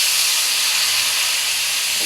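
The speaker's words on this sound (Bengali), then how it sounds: "এই যে দেখুন, আমার এলো সুজিটা ভাজা হয়ে গেছে। এখন আমি পানি দিয়ে দেব।" Water hisses and sizzles steadily as it is poured onto semolina fried until brown for halwa, a loud continuous broadband sizzle with no talking.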